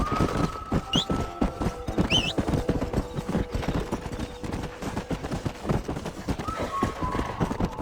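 Steady clip-clop of hooves from several horses in the Red Dead Redemption video game, dense and continuous, with whinnies and distant pops mixed in.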